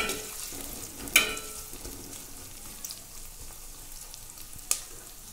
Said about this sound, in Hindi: तेल गरम हो गया है, अभी इसमें प्याज और मिर्ची देंगे हम लोग